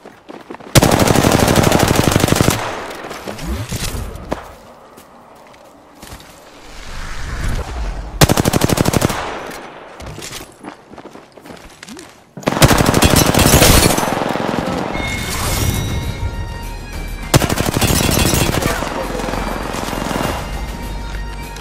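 Heavy automatic gunfire from the video game Apex Legends, loud and close, in long sustained bursts separated by short quieter gaps, with no talk over it.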